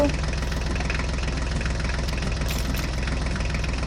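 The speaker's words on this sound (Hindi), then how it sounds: "अब ड्राइवर जॉन डीयर ट्रैक्टर को बाहर निकालेगा" A John Deere tractor engine runs steadily with a low, knocking rumble, close and continuous, as it strains to pull out of sand.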